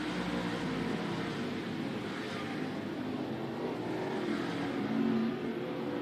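Race cars accelerate down the back straightaway after turn 2, a continuous, fairly faint roar of engines heard from a distance with a slight swell near the end and no voices over it.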